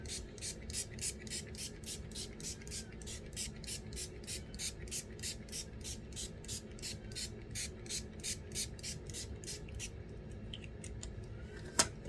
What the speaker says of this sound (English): setting spray, I have the LA Colors Matte Setting Spray